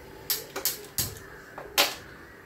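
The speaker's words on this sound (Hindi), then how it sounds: "ये हम प्रेशर कुकर को लॉक करते हैं" A pressure cooker lid is locked in place while mutton cooks. Several sharp metallic clicks and clacks come close together, fairly faint and with no talk over them.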